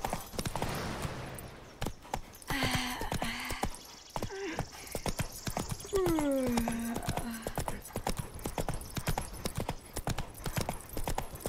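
Hooves clip-clop in a quick steady rhythm as a horse is ridden in The Witcher 3: Wild Hunt, loud and close, with a horse whinnying partway through and faint other sounds underneath.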